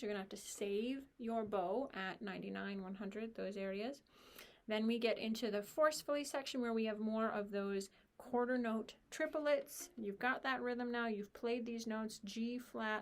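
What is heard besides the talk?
None of the usual background noises is heard.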